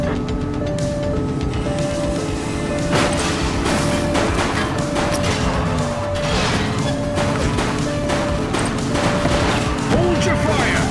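Police gunfire and crashing impacts during a vehicle pursuit in The Precinct video game, a dense, loud run of shots and smashes with engine noise and a steady beeping tone, under voices.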